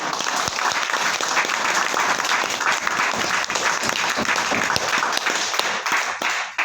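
Loud, dense audience applause fills a hotel event hall, sustained and steady from start to finish with no voices over it.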